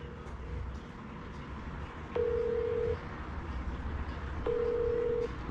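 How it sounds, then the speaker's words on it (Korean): A newly activated budget mobile phone places a call, giving two separate steady ringing tones about two seconds apart over a soft background hiss. "자, 전화를 한번 해보겠습니다."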